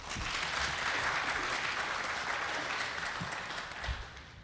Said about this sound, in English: A big round of applause for all of our panelists.